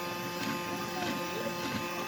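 A GuGio intelligent sweeper robot vacuum cleaner runs with a steady, faint mechanical whir and hum that holds unchanged throughout.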